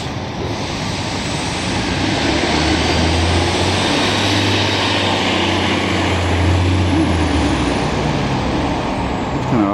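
A jet airplane passes overhead above a Montreal city boulevard, a loud, broad, continuous roar that swells slightly in the middle and fades a little at the end, with no talking.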